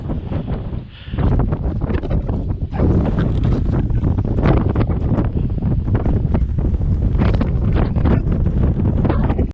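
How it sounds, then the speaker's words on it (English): Strong wind buffets the microphone outdoors at Devin Castle near Bratislava, Slovakia, by the water, as a loud, continuous rumbling roar that dips briefly before surging back and holding steady. "The wind is very strong."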